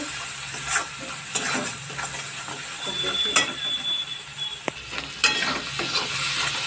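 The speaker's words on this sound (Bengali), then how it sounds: "মশলাটা কষিয়ে নিয়ে ভালো করে মশলাটা কষানো হয়ে গেছে" Spice paste with ground coriander frying and being stirred in a pan for a light singhi fish curry; a steady sizzle runs throughout, broken by scraping strokes of a spatula and a few sharp metallic clinks.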